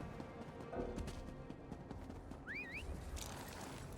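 Horse hooves clop along at a gallop in the Elder Scrolls Online video game, a quiet rhythmic patter under game ambience, with a brief sweeping whine in the middle.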